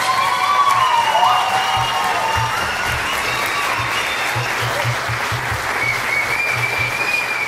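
Audience applause for the young children's dancers of a Hungarian csárdás folk group at a season-closing concert in Edmonton, a full, steady clapping wash with a few cheers and a low rhythmic thumping underneath.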